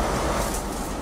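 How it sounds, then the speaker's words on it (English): Passenger train in Scotland, a loud steady broadband rumble and rush of a carriage in motion, continuous and close with no voices. "Eddie Barr's train is still on time"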